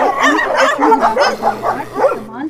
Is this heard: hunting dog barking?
yes